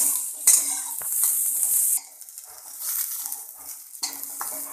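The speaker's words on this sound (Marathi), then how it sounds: "हे लालसर भाजून घ्यायचं आहे आपल्याला त्याच थोड्या तेलामध्ये" Soft sizzling of onion roasting in a little oil in a pan, with a spatula scraping and stirring, the frying quieting briefly before picking up again, close by.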